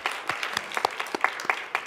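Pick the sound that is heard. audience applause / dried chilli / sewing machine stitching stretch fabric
audience applause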